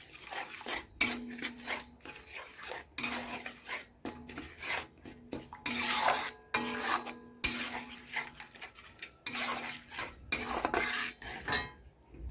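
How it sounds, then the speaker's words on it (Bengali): Stirring jaggery into pineapple chutney in a pan with a flat metal spatula, producing repeated scraping and clinking bursts with short pauses between strokes, close and moderately loud. "গুড় দিয়ে দেখুন আমি খুরপি দিয়ে ভালোভাবে নাড়াচাড়া করে মিশিয়ে নেব আনারসের সাথে"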